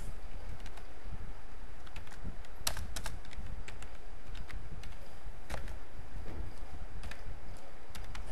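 Computer keyboard keys tapped while writing code for a WordPress theme: a scattered, uneven run of light clicks with a few sharper strokes over a steady background hiss, with no speech.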